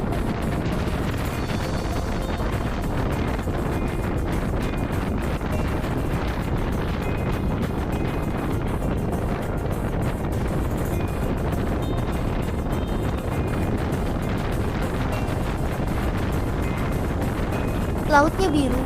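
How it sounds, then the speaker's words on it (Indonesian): Strong sea wind roars across the microphone while riding an electric motorbike on the Bali Mandara toll road over the sea, a loud, constant low rumble and buffeting throughout, with no clear speech. "Angin laut juga menderu menabrak wajah."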